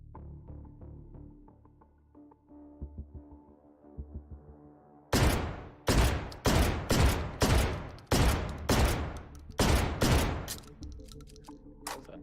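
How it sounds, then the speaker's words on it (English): A rapid burst of about nine heavy booming shots from a magazine-fed shotgun in the video game Take & Hold, loud and close, after quieter clicks and handling sounds. "Was that 9 shots?"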